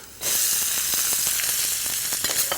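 Green peppers with asafoetida and turmeric hit hot ghee and burst into a loud, dense sizzle after a brief quiet moment. The crackle then holds steady with scattered pops and light stirring.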